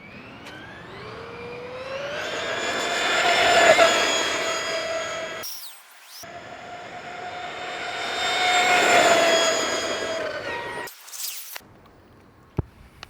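A TEKNO RC MT410 2.0 1/10 scale basher RC truck with an electric motor whines loudly in two long rising-and-falling runs, pitch climbing then easing off, separated by short gaps, with a sharp click near the end.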